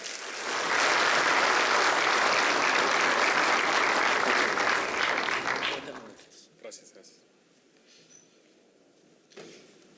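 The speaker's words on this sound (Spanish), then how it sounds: "Por favor, les pido un aplauso para recibir al doctor Hugo Gutiérrez." An audience at an academic symposium on water management in agricultural systems applauds to welcome a speaker, loud dense clapping that starts abruptly, holds for about five seconds, then fades to scattered claps and room noise.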